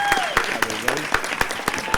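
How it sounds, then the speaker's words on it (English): A convention panel audience applauds its panelists, a steady stream of clapping with distinct claps popping out in a loose regular beat while a voice talks over it. "let's give a round of applause for our panelists."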